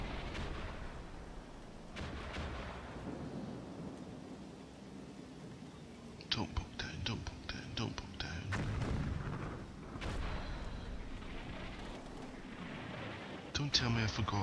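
Tank cannon fire in the Combat Mission: Battle for Normandy war game, heard as several sharp booming shots with rumbling echoes over a steady background of battle noise and clusters of crackling reports.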